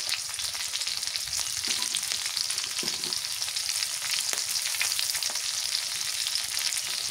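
Garlic paste fries in hot oil as the base of a salmon curry, giving a dense, steady sizzling hiss with a few faint clinks of utensils, close and uninterrupted by speech.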